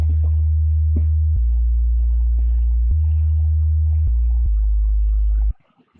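A dry sub bass from the Sytrus synth's default preset plays a deep sustained line of held notes that shift pitch several times, then cuts off abruptly, leaving near silence.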